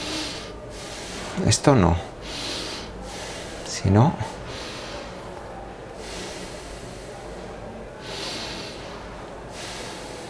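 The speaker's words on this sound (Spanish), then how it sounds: "respirar solo con respiraciones cortas y torácicas" Short, shallow chest breathing demonstrated by a woman teaching breathing technique: two quick, sharp nasal intakes a few seconds apart, close and fairly loud, with her speaking between them.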